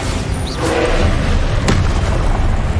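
A Bombarda spell explodes in the video game Hogwarts Legacy as one dull boom with a sharp thud partway through, set against a loud continuous rumble of game noise.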